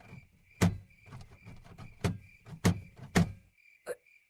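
A stuck door being tried: several hard thunks and rattles as it is pushed and yanked, fairly close, with a faint steady tone underneath and no talking.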